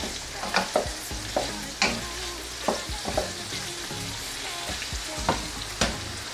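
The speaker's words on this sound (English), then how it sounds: "Just mix that up there and let it cook for a little bit." Sausage and peppers sizzle softly in a pan while a spatula stirs them, giving sharp scraping knocks at an irregular pace over a low, steady frying hiss.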